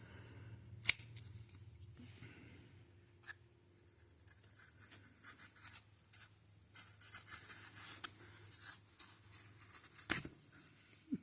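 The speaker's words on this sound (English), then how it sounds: "Now let's just cut a little bit of cardboard that it came with." A $5 Ozark Trail shaft lock knife slices through thick cardboard, with scattered dry scraping and crunching cuts in short bursts, a few sharp snaps standing out, close and fairly quiet against a low background hum.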